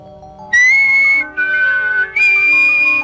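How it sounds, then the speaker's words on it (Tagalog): A person whistles three sustained tones in a row, clear and loud up close, each held steady with short gaps between, and no talking over it. "Ganito ang sipol."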